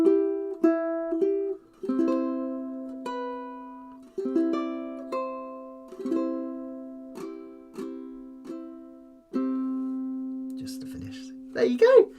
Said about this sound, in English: So that bottom line will sound like this.